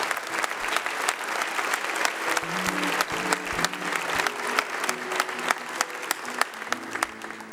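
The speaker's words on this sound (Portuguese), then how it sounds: "Vamos aplaudir o Santo Evangelho." A church congregation at Mass claps steadily together after the Gospel reading, a dense continuous patter of many hands with faint voices underneath.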